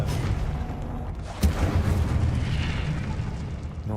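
A fire spell called Incendio is cast in Hogwarts Legacy, a Harry Potter video game, with a sharp burst near the midpoint over a continuous loud, rumbling roar of crackling magical combat.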